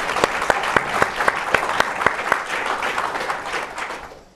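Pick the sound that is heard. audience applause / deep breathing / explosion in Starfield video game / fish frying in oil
audience applause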